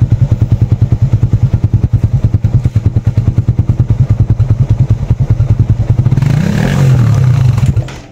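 A Suzuki Raider FI 150 motorcycle engine chugs in a loud, rapid thumping idle, then the beat fades out near the end as it is switched off, leaving a brief scraping clatter.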